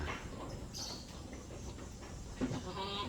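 Goats on a farm in Bulungan Regency, North Kalimantan, give faint bleats over a low background murmur, with a slightly louder call near the end.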